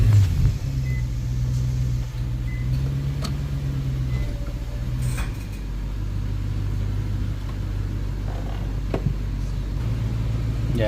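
Infiniti M45 VK45DE V8 engine idling with its drive belt removed, a steady low rumble close by with faint ticking, running smoothly throughout without voices.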